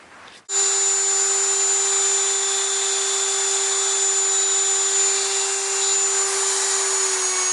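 A power drill spins up sharply and runs at a steady high whine, boring holes in a resin model kit of a quarter-scale figure, loud and close with a constant pitch throughout.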